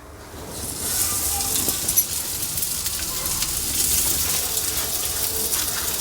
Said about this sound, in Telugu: అన్నీ అట్లా మంచి షాలో ఫ్రై చేసుకోవాలండి.